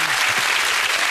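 A studio audience on a British daytime chat show breaks into loud, sustained applause and cheering, a dense wall of clapping that fills the whole moment without any talk over it.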